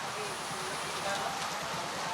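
Heavy rain falling as a loud, steady wash of noise, with a voice faintly present beneath it.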